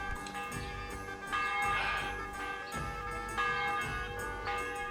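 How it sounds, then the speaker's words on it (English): Church bells ring in the medieval video game Kingdom Come: Deliverance, a steady dense peal of overlapping tones filling the whole stretch with swelling strikes, with no talk over it. "Let me get the bells."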